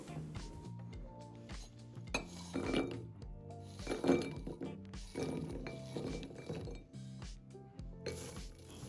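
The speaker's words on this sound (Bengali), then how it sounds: "এখন বাদামগুলোকে আমি অন্য একটি বাটিতে ঢেলে নেব।" Roasted cashews and peanuts poured from a microwave-safe bowl into another bowl, giving a busy run of small hard clinks and rattles against the dish that keeps going through the whole stretch, with no talking.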